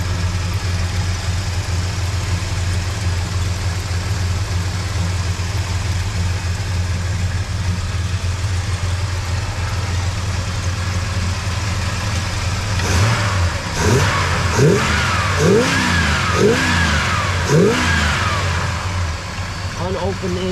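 A 1968 Dodge Super Bee with its original unopened engine settles into a steady, loud low rumble at idle, then snaps through a quick series of sharp revs near the end.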